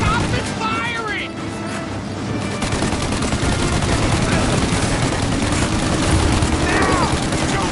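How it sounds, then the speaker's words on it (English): Dense, sustained gunfire rattles through a shootout in the video game Mafia Definitive Edition, loud and continuous, with shouting voices over the barrage. "Shoot now while we got the chance! Stop this firing!"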